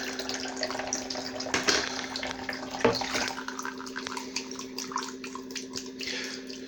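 Water flows from the outlet of a reverse osmosis system set up for window cleaning, a steady, moderate splashing trickle heard close by, with a low hum and a few louder splashes.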